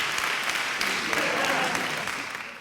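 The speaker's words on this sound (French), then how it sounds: "Mesdames, messieurs, applaudissements pour Patrice." A studio audience applauds for Patrice during a TV show parody, a dense, steady wash of clapping from many hands that fades out over a few seconds, with speech faintly beneath.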